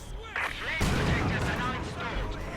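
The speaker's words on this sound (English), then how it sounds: "Oh, nice mortar hit" Mortar and artillery fire in a World War II real-time strategy game, with a deep booming impact rolling out over a continuous rumble of battle while an excited voice talks over it.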